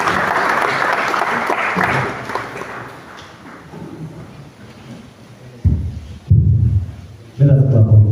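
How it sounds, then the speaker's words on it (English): Dense crackling applause from a crowd at a 2023 school graduation assembly fills the first several seconds, then fades under background noise before louder bursts of sound near the end. "Let us clap also."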